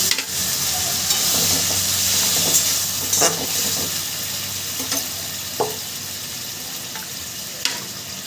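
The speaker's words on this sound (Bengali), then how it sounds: "ছোটো বাটির এক বাটি অল্প একটু জল দিয়েছি দেখো" Warm water added to a pan of vegetable and ground-fish curry: a loud, broad steamy hiss and bubbling close by, with scattered utensil clinks and knocks and no talk.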